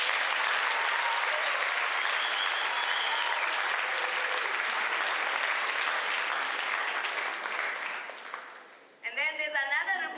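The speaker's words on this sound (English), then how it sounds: "please clap hands for him" Sustained audience applause at a youth seminar for an introduced guest, dense and even clapping from a crowd that fades toward the end before a voice begins speaking.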